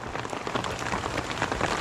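Rain falling in a rural Philippine setting, a brief dense patter of drops hitting surfaces, fairly soft and steady, with no voices.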